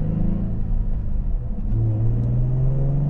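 A Nissan 350Z engine hums low and steady while driving, its pitch rising slightly as it pulls along, close and continuous.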